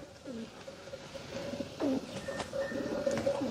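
Pigeons coo in soft, repeated low calls at close range, with a few faint chirps and light background noise around them.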